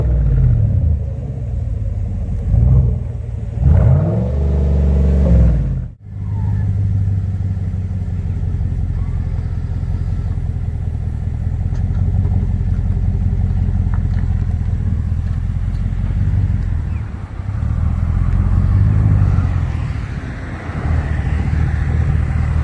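Chevy Silverado 1500 pickup with a muffler delete, parked and rev-limited to about 2500 RPM: a loud, deep exhaust rumble rises in a few revs, then settles into a heavy, steady idle close by.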